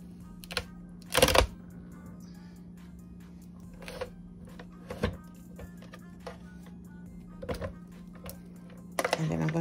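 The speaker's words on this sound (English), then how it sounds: "So now I am going to do my punch. And this will probably shake the table" A notebook hole punch bites through paper on a tabletop for a Dollar Tree Cinch-style DIY notebook, giving a few sharp, loud clunks and thumps spaced several seconds apart over a steady low hum.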